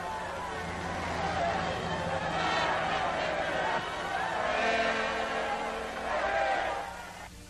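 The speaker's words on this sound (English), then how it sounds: "to wildly cheer their American protectors as they arrive" Crowds of North African locals cheer arriving American troops during the 1943 Allied landing, a broad swelling roar of many distant voices with rising waves of shouting, heard on a muffled old recording.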